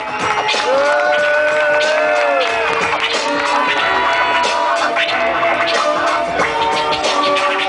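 A loud crowd at a b-fest concert claps and cheers, with whoops rising over sustained applause and a tonal line running through the noise.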